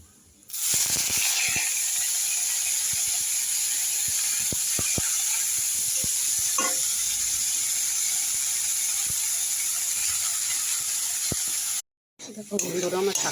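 Washed and chopped leafy greens with salt and turmeric fry in a pan, giving a steady close sizzle with scattered crackles and pops throughout, broken by a brief gap near the end.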